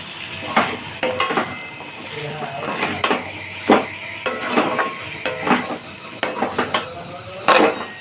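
Boiled chickpeas are sautéed with masala in a pan over a low flame. A spoon strikes the pan in a sharp, irregular series of metallic clinks and scrapes over a faint sizzle, sounding close and clear.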